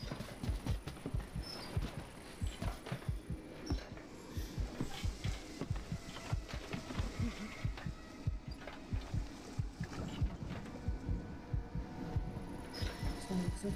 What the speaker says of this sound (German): Vor allem, du hörst auch ihren Herzschlag.